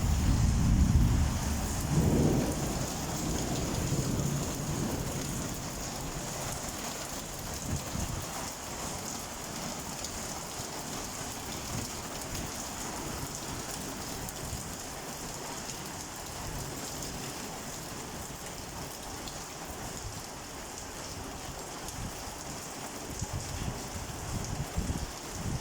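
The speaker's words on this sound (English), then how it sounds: "So now there's raining here. It's quite strong." A strong rainstorm in Islamabad, Pakistan, with dense continuous rain hissing on surfaces and a low rumble of thunder early on, steady and moderately loud throughout, with no voices.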